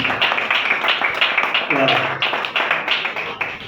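Applause from an audience at a trophy award ceremony for a journalist, a steady wash of dense clapping throughout with a voice speaking briefly over it near the middle.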